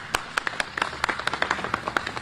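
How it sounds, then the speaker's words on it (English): A small audience at a press conference on the Trump impeachment gives a round of applause: a brief, fairly sparse burst of distinct, crisp handclaps, close and clear, with no talking over them. "Let's bring her on with a round of applause"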